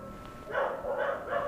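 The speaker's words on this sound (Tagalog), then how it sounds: "yan, tumatahol na sila" Dogs barking at a distance, a few rhythmic muffled barks in quick succession, fairly faint with no talk over them.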